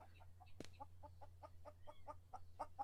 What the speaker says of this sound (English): we might not have to listen to it clucking all the time